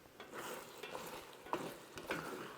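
Lamb and beef kavurma sizzles steadily in its own fat in an uncovered pan, a continuous crackling hiss with occasional louder pops and stirring scrapes, close by and without speech.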